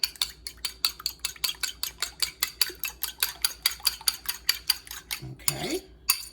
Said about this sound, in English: I'm gonna mix them up a little bit before I put them in.